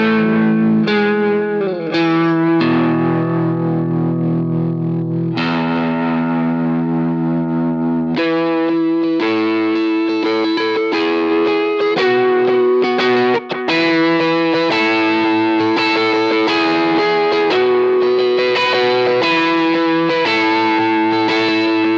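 A heavily distorted electric guitar plays sustained chords and riffs, thick and evenly compressed through an LA-3A compressor, with steady loudness and no voices.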